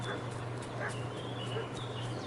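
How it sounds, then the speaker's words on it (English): A dog barks and yips a few times against a steady hum and background music in the video game Kingdom Come: Deliverance 2. "What's that dog making such a fuss about?"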